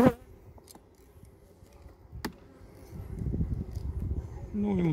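Honey bees buzz around a beehive frame during a hive inspection, a steady low hum that grows louder toward the end, with a few clicks and a person talking over it.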